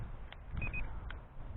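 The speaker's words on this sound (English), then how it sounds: "annoyingly while it's taking video, this beeps" An SJRC Z5 GPS foldable drone gives short electronic beeps while recording video, a couple of brief tones over a low outdoor rumble.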